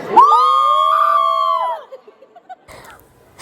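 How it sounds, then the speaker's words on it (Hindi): Tourist groups shouting inside the Borra Caves, with one loud, sustained echoing yell followed by scattered short calls and faint voices in the cave. "यहाँ पे जो है ना बहुत सारे ग्रुप आए हुए थे, वो चिल्ला रहे थे, उनके साथ साथ हम भी चिल्लाने लग गए।"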